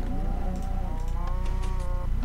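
Cows mooing in the video game Minecraft, a single long drawn-out low moo that rises slightly, loud and close over a steady low rumble.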